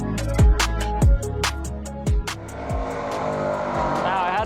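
A tuned stage one Mercedes-AMG A45S launches down the Santa Pod drag strip quarter mile, its engine roaring loud and close with sharp, rhythmic gear-change bursts and pops that trail off into a rising, fading whine.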